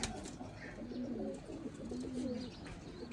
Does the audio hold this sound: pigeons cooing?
yes